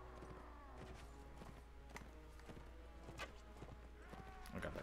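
Horse hooves drum in quick clip-clop beats during a cavalry charge in the Mount and Blade: Warband video game, a steady, fairly faint gallop with occasional clatter of the battle around it.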